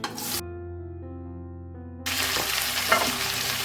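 Long-sliced onions sauté in hot oil with a loud close hiss that cuts out briefly behind a low steady hum, then returns with light stirring scrapes.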